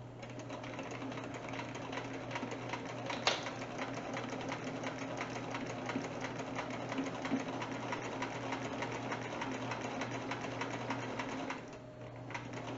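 A sewing machine stitching along the edge of a denim wine bag, a steady fast mechanical hum and needle patter running throughout at close range, pausing briefly near the end.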